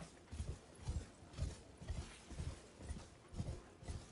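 Hooves of a horse clopping at a steady trot in the video game Elden Ring, rhythmic soft thuds repeating roughly twice per second, fairly quiet against a faint background hiss.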